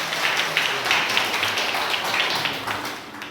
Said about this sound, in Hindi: बहुत शानदार, जोरदार तालियां।